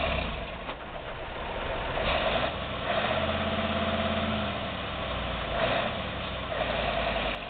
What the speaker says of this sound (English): Timber truck Mercedes-Benz Actros 2636 is quite popular in transporting wood in the forest to gathering yards.